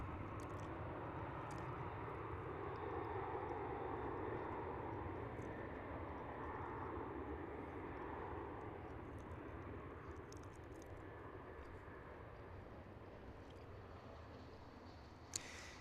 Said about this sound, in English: 737 cutting right in front of the Dreamliner